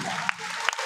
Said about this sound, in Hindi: एक बार स्वच्छंद रूप से जोरदार ताली बजा दीजिए पूज्य गुरुदेव भगवान के लिए।